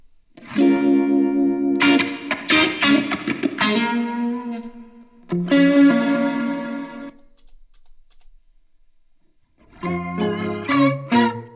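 Electric guitar notes and chords played through a multi-effects pedal, shimmering and distorted with modulation and reverb, in bursts separated by a quiet pause.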